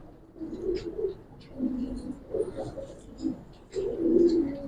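Giribaz khaki pigeons coo in low, rolling phrases, several bursts close by with short pauses between, over faint background chirps; no one speaks.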